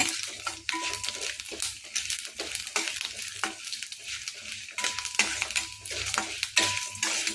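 Dal and garlic fry in a pan for a chutney, with a steady close sizzle and frequent stirring clinks of a spoon against the metal. No voices are heard.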